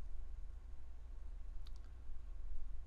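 A single faint mouse click on an OK button, a brief tick near the middle against a quiet background hum, with no talking.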